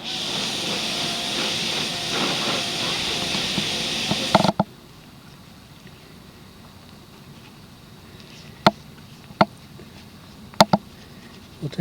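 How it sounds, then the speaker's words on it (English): A pressure washer rinses coating off a motorhome roof: a loud, steady broadband hiss of spray for about four seconds cuts off abruptly, leaving quiet background with a few sharp clicks. "we'll get up there with the pressure washer and wash it all off"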